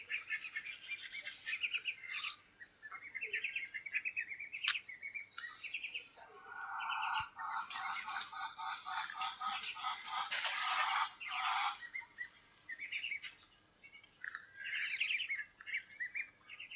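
Birds calling around a village homestead where pigeons perch together, with repeated squawks and chirps coming in busy clusters, some louder and closer, over a quiet rural background.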